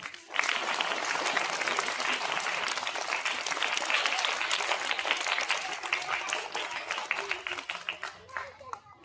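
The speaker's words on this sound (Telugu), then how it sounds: "Give a big round of claps." A crowd at a charity event claps in sustained, dense applause that peaks and then tapers into scattered claps, with faint voices underneath.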